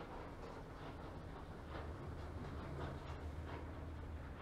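Subway train rumbling at King Station in Toronto, a steady low roar with faint rhythmic clatter, heard at a distance and quiet throughout.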